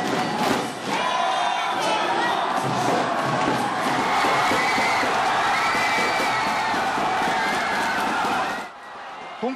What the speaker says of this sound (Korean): 후반 23분 이근호의 선제골이 터지자 교민들의 함성이 실리콘밸리의 한인 교회당을 가득 메웠습니다